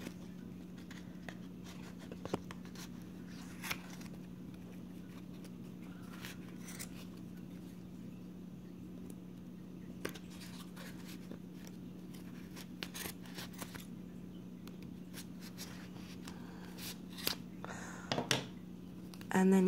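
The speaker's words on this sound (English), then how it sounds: "now we will go in between the cardboard and start cutting." Scissors snip through yarn wound between cardboard pieces for a snowball-style pom pom, a steady run of soft crisp cuts close by, with a low constant hum underneath and no talking.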